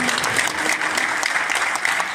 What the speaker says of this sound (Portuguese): Um aplauso coletivo para esse grupo tão representativo.